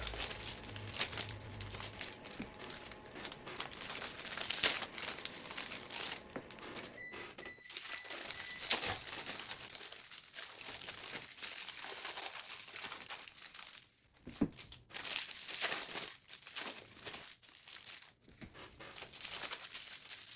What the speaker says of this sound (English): The cellophane on the Aldi honey buns were actually a lot thicker, a little bit more difficult to get into.